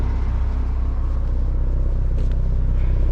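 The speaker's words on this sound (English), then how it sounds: "It's a nice exhaust noise over there." Exhaust note from a car nearby, a steady low rumbling drone with faint pulsing, continuous and fairly loud, with a brief higher hiss partway through.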